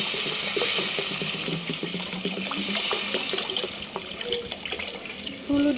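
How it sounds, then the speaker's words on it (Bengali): Water poured into a pan of fuluri curry after the oil separates, a steady close splashing stream that softens toward the end, with no voices. "তেল অলরেডি উঠে গেছে, এবার পানি দিয়ে দিচ্ছি"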